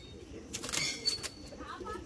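Pigeons kept by a pigeon fancier in a remote village near Basirhat give soft cooing with bursts of wing flapping, fairly close, over low background noise.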